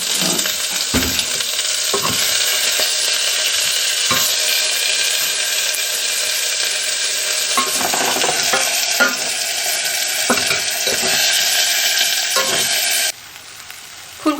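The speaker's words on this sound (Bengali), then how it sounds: "টমেটোটা একটু নেড়ে ছেড়ে নিয়ে তারপরে আমি দেবো একটু নুন, যাতে টমেটোটা তাড়াতাড়ি কুক হয়ে যায়।" Tomato being stirred and fried in a pan, with a continuous loud sizzle and repeated scraping stirs at irregular intervals, close up with no talking.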